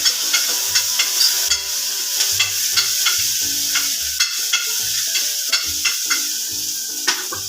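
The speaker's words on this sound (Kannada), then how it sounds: "ನಂತರ ಒಂದಿಷ್ಟು ಟೊಮೆಟೊ ಹಾಕ್ತಿದ್ದೀನಿ ಟೊಮೆಟೊ ಹಾಕಿ" Tomatoes fry in hot oil in a pan for millet bisibele bath, with a steady loud sizzle broken by regular scraping stir strokes, close up and with no voices.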